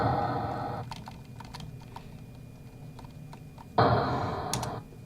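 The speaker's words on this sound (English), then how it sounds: "I'm pressing keys, by the way," Clicking keys on a computer keyboard, a run of distinct, fairly close taps at an uneven pace, set between louder bursts of background noise.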